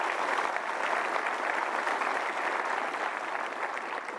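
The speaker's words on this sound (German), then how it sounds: "Auch nochmal herzlichen Applaus." Steady, even applause from a seated audience at a developer conference, a continuous dense patter of many hands clapping, fairly loud and unbroken by talk.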